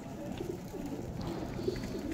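Pigeons feeding on scattered grain coo softly and repeatedly at close range, their low murmuring calls overlapping against quiet background noise.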